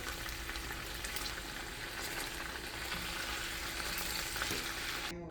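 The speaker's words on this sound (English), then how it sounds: "I'm frying the next 3 pieces." Constant crackling sizzle of Parmesan-crusted chicken pieces searing in hot oil in a pan, dense and steady throughout, fairly close, ending abruptly.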